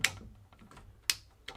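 Two sharp clicks from the gear shifter of a Gazelle Maxinette moped, spaced about a second apart, close and dry over quiet background.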